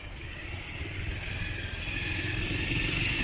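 A motorcycle rides along a rough, broken mountain road in Nepal, its engine droning steadily under rumbling, rattling road noise that grows slightly louder, with no voices.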